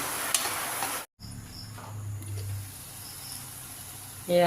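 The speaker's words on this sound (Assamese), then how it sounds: "এতিয়া মই গোটেইখিনি ভাজি থাকিম, মিলাই ভাজি থাকি" Onions fry in oil and are stirred in a pan while cooking matar paneer, a soft sizzle with scraping strokes, broken by a brief cut and a louder burst at the end.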